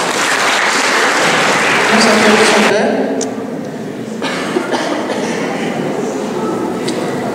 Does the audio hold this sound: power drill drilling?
no